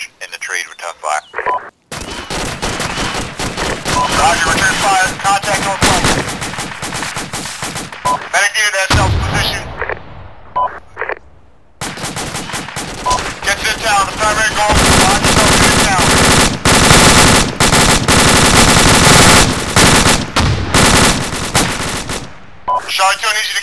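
Bursts of automatic machine gun fire in a tactical military video game, loud rapid volleys with short pauses, while players talk over radio in between.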